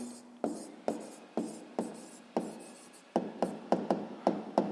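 A pen writes on paper in a math exercise, scratching out a steady series of short strokes and taps that come faster toward the end, close and quiet, with no speech.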